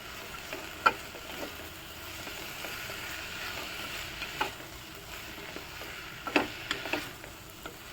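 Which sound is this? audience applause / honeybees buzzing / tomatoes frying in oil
tomatoes frying in oil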